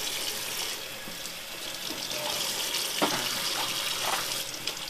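Tap water runs steadily into and rinses out the water tank of a Tineco iFloor One S3 cordless hard floor cleaner, a continuous splashing hiss with small gurgles and clatters, close and fairly loud with no talking.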